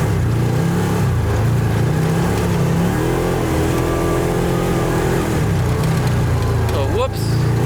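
A Hellwig Operator Ford F-350 pickup truck cruising in hot weather, a loud steady engine drone with shifting pitch and a brief rev near the end, while someone talks over it.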